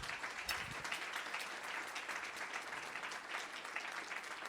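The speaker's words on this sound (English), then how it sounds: "Let's give them a round of applause for it" A conference audience at an inclusive-relations ensemble event claps in a sustained round of applause, a dense steady patter of many hands that fills the room with no speech over it.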